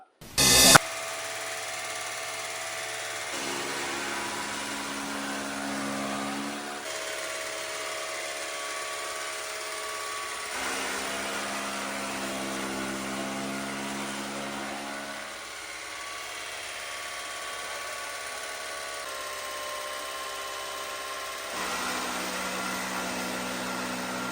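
A new-model chaff cutter machine chops straw and grass as fodder for cattle and goats, giving a steady, loud mechanical drone with shifting tonal hum that runs continuously, with no talk.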